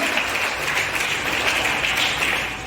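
A church congregation applauds for God during a sermon, a steady dense wash of clapping from many hands that holds evenly throughout without voices over it.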